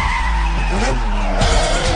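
Tires squeal loudly as a car burns out while staging for a drag race in a Need for Speed video game, a sustained screech over engine roar.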